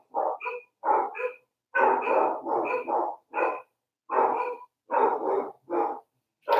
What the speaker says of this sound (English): And I want my dogs to stop barking.